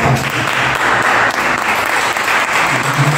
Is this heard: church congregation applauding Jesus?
yes